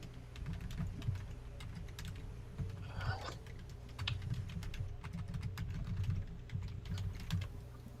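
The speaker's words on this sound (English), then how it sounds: "I got a lot of clicking going on in my" Quick, light clicks from a computer keyboard being typed on rapidly and fairly close, over a low background hum, and no one speaking.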